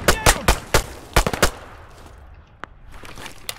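Pistol fire in a tactical shooter, a quick series of sharp, loud shots in two bursts followed by a quieter stretch with a few faint clicks and a single late pop.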